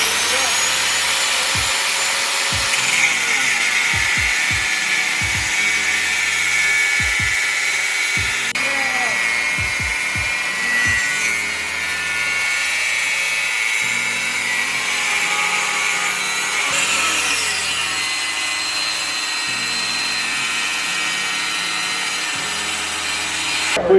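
A rotary tool with a cutting bit whines steadily as it cuts knife steel, a continuous high grinding whir with brief knocks and handling noises, and voices talk over it.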